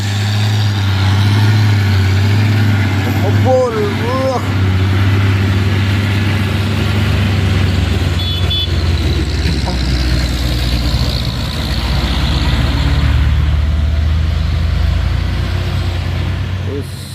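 A trailer truck's engine, belching black smoke and travelling in a convoy, runs with a loud, continuous low rumble and steady drone throughout, while a person speaks over it.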